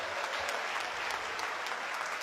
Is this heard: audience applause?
yes